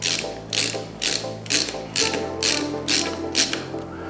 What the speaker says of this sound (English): these screws that we're putting in right now. It's just going into plastic.